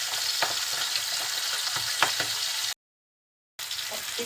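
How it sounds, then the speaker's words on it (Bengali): Pabda fish frying in hot oil for a fish curry, a steady close sizzle with soft crackles and spatters. A brief silent break interrupts it before the frying resumes. "সব মাছগুলো আমি দিয়ে দিলাম তেলের ভিতরে। এখন কিছুক্ষণ অপেক্ষা করব এক পিঠ ভাজার জন্য"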